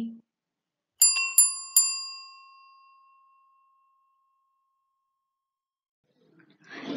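Bright metallic bell ding, like a bicycle bell, struck three times in quick succession as a notification cue, ringing out and fading over about two seconds after a short word, then silence before faint noise at the end.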